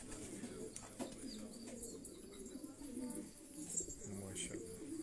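Pigeons cooing softly in a racing pigeon loft in Quetta, Belgian-bred birds, with repeated low coos and faint chirps, some distant voices in the background.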